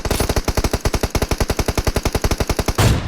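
Fast automatic gunfire in PUBG Mobile on the Erangel map, a close, loud burst of about twenty-five evenly spaced rapid shots that ends abruptly, with no voices.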